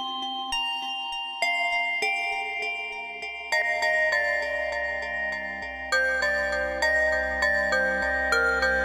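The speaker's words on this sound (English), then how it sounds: "So first of all, I have here a very basic DX7 theme, let's say." Basic DX7 synthesizer theme played dry without effects, a bright bell-like electric piano melody of stepping notes over a sustained bass, clean and close.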